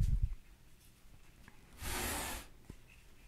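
A drywall cutting tool draws one short, rasping scrape through a small piece of drywall, a close half-second rub standing alone after a faint knock.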